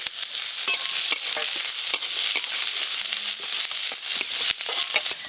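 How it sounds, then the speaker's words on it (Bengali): Chopped onions fry in oil and get stirred, a bright steady sizzle close by with repeated scraping strokes of a spatula. "পেঁয়াজ কুচিগুলো একটু হালকা করে নেড়ে নিয়েছি।"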